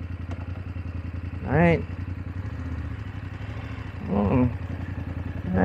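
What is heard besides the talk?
BMW F850GS motorcycle being test ridden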